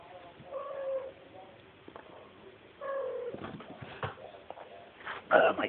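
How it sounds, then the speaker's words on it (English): A house cat meows a few times, close by, in drawn-out plaintive cries with a louder yowl near the end, amid faint household rustling and clinks. "My cat jumped up there."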